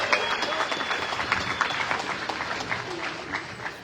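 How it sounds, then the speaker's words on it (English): Audience applause at a junior livestock show for intermediate showmanship finalists, a moderate crowd clapping steadily and fairly close for a few seconds with no voices over it. "Let's give our intermediate showmanship finalists a round of applause."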